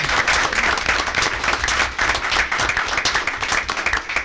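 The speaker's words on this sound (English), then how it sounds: "Nice round of applause." A round of applause from a room of people at a school board meeting, dense steady clapping sustained for several seconds at close range.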